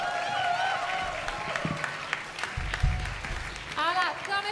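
A concert crowd applauds for a combined wind band and rock band, clapping mixed with cheering and crowd voices, with some talk and tonal sounds over the top.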